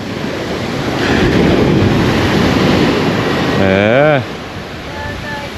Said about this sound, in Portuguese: Tá vendo umas ondas um pouquinho mais fortes.